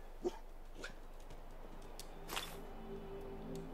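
A dog companion in the video game Fallout 4 gives a few faint, brief barks or whimpers, spaced apart over quiet game ambience.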